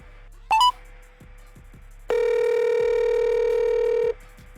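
A telephone call being placed to an interview guest: a quick burst of dial tones, then a steady two-second ringback or dial tone, loud and clear over a quiet ticking background.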